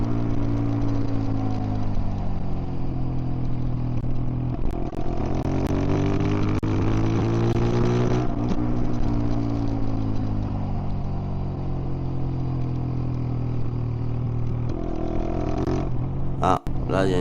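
A Zontes 125 motorcycle engine drones while riding on the road, a steady mid-pitched hum with gentle rises and falls in revs, loud and close, with a rider talking over it.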